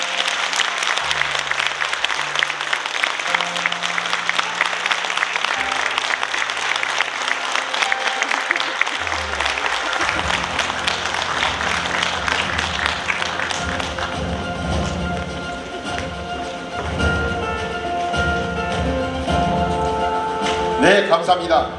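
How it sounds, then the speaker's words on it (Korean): A lecture-hall audience claps together, dense sustained applause that starts full and thins into scattered clapping, with a low murmur of voices and some shuffling underneath. "여러분 활짝 웃으면서 박수 한번 보내주시기 바랍니다."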